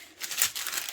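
Kitchen paper crinkles and crumples close up for a full second while being pressed against freshly washed wild garlic leaves to dry them, a dense, crackly rustle with a brief louder burst partway through.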